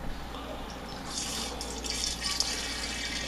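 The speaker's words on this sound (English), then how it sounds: "So we are transferring this now" Port wine from a milk chocolate strawberry kit is siphoned into a 3 gallon carboy, a steady trickling, filling flow of liquid heard close up over a low background hum.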